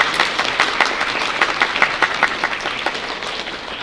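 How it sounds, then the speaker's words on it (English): Students and staff at a Saltley Academy Black History Month assembly applaud a student with a sustained patter of clapping, crisp individual claps standing out near the front for nearly four seconds. "Put your hands together for him."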